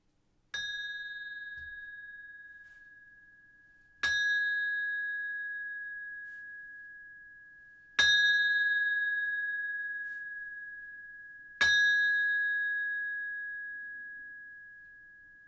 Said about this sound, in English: the sound of the temple bell